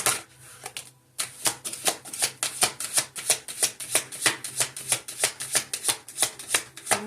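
Tarot deck being shuffled by hand, a close, crisp run of rapid riffling flicks in a steady rhythm after a brief pause near the start, no talking.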